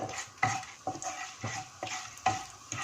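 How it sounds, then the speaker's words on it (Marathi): Black pepper, cloves, fenugreek seeds and a pinch of asafoetida being sautéed for a few seconds in a pan over a low flame, with a spoon scraping in a steady repeated rhythm over a soft dry sizzle. "मिरे आणि लवंगा, मेथ्या आणि थोडंसं असं 10 सेकंद असं परतायचं"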